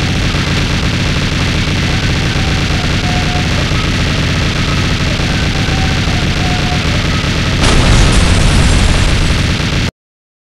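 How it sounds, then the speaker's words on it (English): A TV is wrecked in a loud, constant explosive roar that fills about ten seconds without pause, with a sharper crashing burst near the end before it cuts off abruptly. No one speaks. "Yes, I destroyed the TV."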